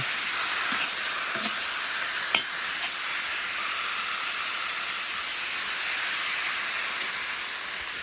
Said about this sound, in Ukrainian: додаємо біле м'ясо і смажуємо нього до золотого кольору.